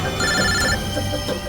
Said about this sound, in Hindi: बॉस का फोन है, तुम लोग खेलो।